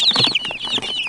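Baby chicks peeping close by, a quick run of high, thin, downward-sliding chirps repeating over a soft, busy background.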